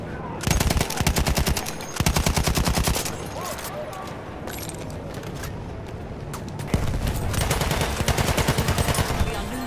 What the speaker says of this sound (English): Maschinengewehr gesichtet.